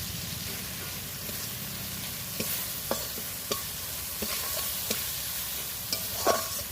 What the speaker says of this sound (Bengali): ভালো করে আবারও মশলাটাকে কষিয়ে নেব